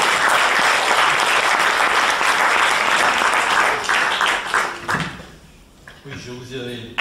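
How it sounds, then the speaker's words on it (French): Audience applause after a talk, a loud, dense clapping that fills most of the stretch, then thins and breaks off near the end as a voice starts speaking over the last scattered claps. "je vous ai déjà fait applaudir"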